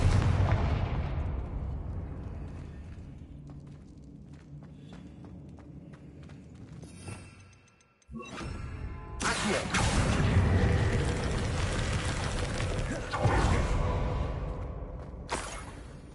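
Confringo blasting spell in the Hogwarts Legacy video game: a sharp cutoff, then a loud, crackling explosion that roars on for several seconds, with another heavy blast near the end.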